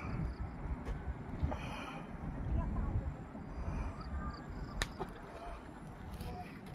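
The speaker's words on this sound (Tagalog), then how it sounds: "Hangin ang malakas dito guys" Strong typhoon wind gusting over the Abra River during Typhoon Uwan, a dense, continuous roar with rushing low rumble and occasional louder gusts, with faint talk in the background.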